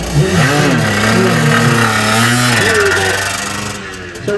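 A Rickman Metisse motorcycle engine at a motorcycle museum event is fired up and revved hard, a loud, rasping exhaust note climbing and dropping in pitch close by before easing off.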